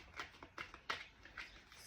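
Tarot cards are shuffled by hand in a quiet room, giving a series of soft, brief riffling swishes in an irregular rhythm, faint and close.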